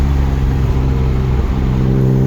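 An S52-swapped BMW E30 on a stock ECU holds a loud, steady engine drone near the limiter, its deep harmonic rumble continuous and close with no talk over it.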